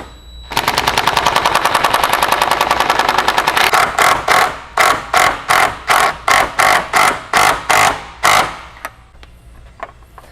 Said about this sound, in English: And then I just need to keep it from spinning so that it'll pull that riv nut in and kind of mushroom it against the radiator support.